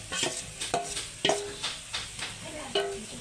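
Pre-boiled red lentils are stirred into a pan for a shrimp dal with banana blossom, giving several soft scraping strokes over a quiet sizzle, close and fairly faint, with no voices.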